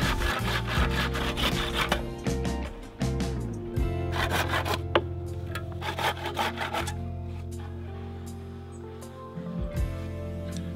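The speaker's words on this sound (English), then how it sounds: "and then saw off the peg ends" A handsaw cuts off the ends of wooden pegs on a handmade shave horse, making steady rhythmic back-and-forth rasping strokes, close and fairly loud, with no talking.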